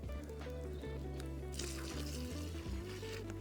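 Water poured into a pot while cooking manzha, the Bulgarian village dish, a steady liquid pour under a constant low droning hum with no voices.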